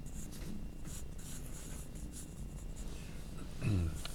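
A pencil sketches a cartoon character, making faint scratchy strokes in short bursts, with a brief low rumble near the end.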